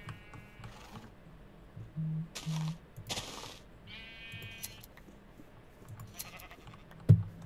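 Sheep bleat a few times in Minecraft 1.17, short nasal calls with quiet gaps and some soft clicking between them.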